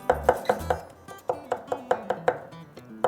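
Three garlic cloves chopped finely with a knife on a cutting board, a steady run of about a dozen crisp, close blade taps in an uneven rhythm, with no voices.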